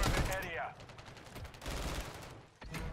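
Gunfire in Call of Duty Modern Warfare 3, an online match with an MTZ 762 rifle: bursts of close shots and rapid fire over game noise, with a brief voice at the start.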